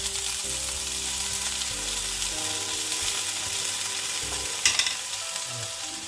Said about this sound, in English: I'm just going to pan fry